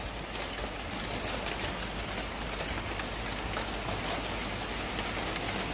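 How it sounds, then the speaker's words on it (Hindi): Rain beginning to fall outside a home, a dense and even hiss of drops striking the ground and nearby surfaces, steady and fairly loud throughout with no voices. "बाहर शुरू हो गई है बारिश"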